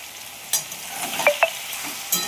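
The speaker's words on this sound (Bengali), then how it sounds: "এবার রসুন আর পেঁয়াজটা দিয়ে ভালো করে কষিয়ে নিই" Garlic and onion stir-fried in a pan with fried tomato for ghugni give a soft continuous sizzle, broken by a few sharp clinks and scrapes of the spoon, close and moderately quiet.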